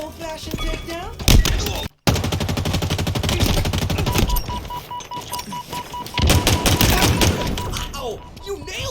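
Rapid automatic gunfire bursts in Halo Infinite multiplayer, dense loud rattling shots with sharp impacts, game announcer voice and music layered underneath.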